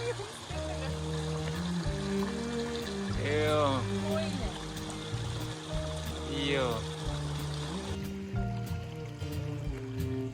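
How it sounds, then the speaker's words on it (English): A steaming hot-water river flows with a steady broadband rush, close and continuous throughout, while people talk and exclaim over it. "this is literally hot water river"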